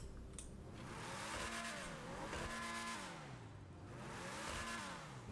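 The Principe Deveste Eight sports car engine in GTA Online revs up and down repeatedly, the pitch rising and falling in smooth sweeps, loud and close with no talking.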